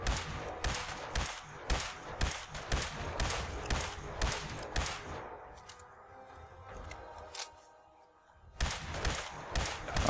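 Bursts of rapid gunfire in Fallout 4 during a fight with a Fog Crawler, loud and close, coming in repeated volleys with a short quiet gap before shooting resumes.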